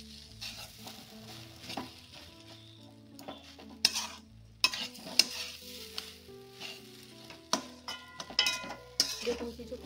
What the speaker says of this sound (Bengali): এবার আর একটু ভালো করে নেড়ে নিয়ে জলটা শুকানো অবধি